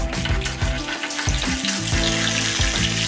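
Cumin seeds frying in hot oil in a home kitchen pan, a steady, loud crackling sizzle with dense popping that runs throughout without pause.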